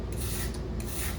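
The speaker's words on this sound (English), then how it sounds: "Just gonna go through the surface real quick with a wire brush." A wire brush scrubs hard across the surface of a timber post during a post bottom repair, a steady, loud, harsh rasping close up with no pauses and no voices.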